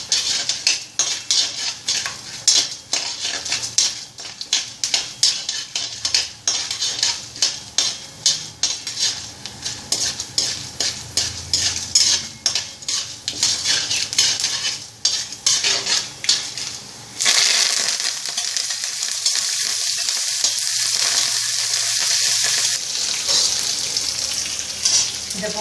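Green chili, ginger and curry leaves fry in hot oil for rava upma, a steady close sizzle broken by clinks and scrapes of a spoon stirring against the pan, swelling into a louder, fuller hiss near the end.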